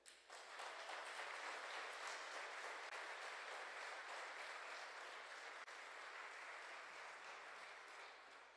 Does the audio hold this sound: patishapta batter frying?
no